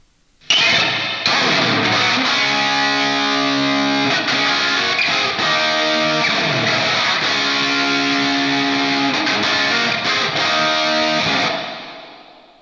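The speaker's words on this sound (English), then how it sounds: "It's a very warm delay sound, which is what I like." A sustained electric guitar chord, played through amp simulation software, rings out with a smooth, warm, echoing delay trailing behind it, fading away at the end.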